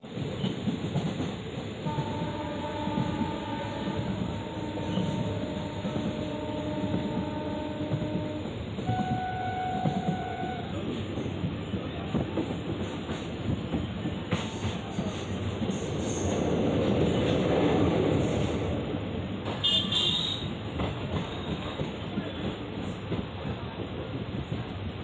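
The Guruvayoor Madurai Express rolls along the rails near Kilikollur station between Kollam and Tenkasi, with a continuous rumble, rhythmic wheel clatter and intermittent high squeals, plus a brief louder surge of track noise midway.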